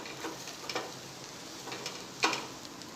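A spatula scrapes and stirs masala poha in a hot pan, giving soft, faint sizzling strokes with a few sharper scrapes. Nobody speaks.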